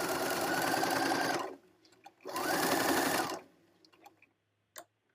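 A sewing machine stitching a skirt: two loud, close bursts of rapid whirring stitching, each lasting about a second and a half, separated by quiet gaps with faint handling clicks.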